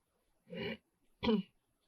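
Two short coughs about half a second apart, close and fairly quiet, with silence around them.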